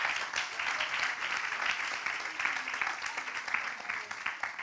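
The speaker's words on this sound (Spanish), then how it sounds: "Dale un aplauso al Señor." Church congregation applauding, a sustained, moderately distant wash of clapping filling the room with a steady texture and faint voices underneath.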